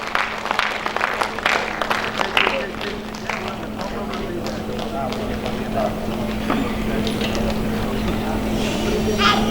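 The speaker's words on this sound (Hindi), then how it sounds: "मैं चाहता हूं कि आप सभी तालियों से उन्हें सहयोग प्रदान करें" Audience applause at an astro spiritual fair, a dense crowd clapping steadily throughout, with a continuous hum beneath and the clapping swelling slightly toward the end.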